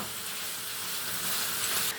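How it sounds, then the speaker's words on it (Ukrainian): Liver fries in an uncovered pan, giving a continuous, fairly loud sizzle and hiss that stays steady throughout, with no talk. "Зараз ми буквально пару хвилин її обсмажимо так під відкритою кришкою"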